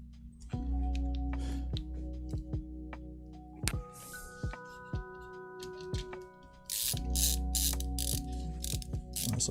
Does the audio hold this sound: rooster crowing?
no